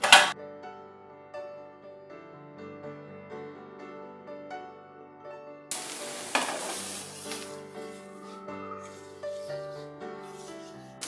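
Chillies, cabbage and spring onion hit a hot pan for veg manchurian, giving a loud sizzling stir-fry burst partway through and then a steady crackle, all under background music.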